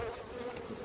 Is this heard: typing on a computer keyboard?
no